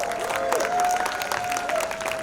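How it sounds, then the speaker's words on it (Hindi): Audience applause at a 30th-anniversary special screening of the film Qayamat Se Qayamat Tak, steady broadband clapping from a crowd with a faint tonal whistle or feedback line running through it. "आपकी तालियों की गूंज रुकनी नहीं चाहिए।"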